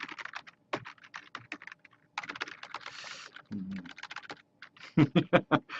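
Someone types on a computer keyboard while filling in a sign-up form, producing bursts of close, crisp key clicks with pauses between them and a fast run of loud strokes at the end.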